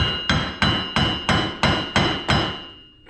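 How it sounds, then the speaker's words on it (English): A dead blow hammer strikes the axle of a Can-Am Maverick X3 during wheel bearing work, landing seven loud, evenly spaced metallic blows about a third of a second apart, each ringing briefly before the next. "I'd recommend using a dead blow so you don't wreck anything."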